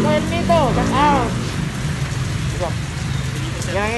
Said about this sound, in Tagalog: Nabutan ng ulan.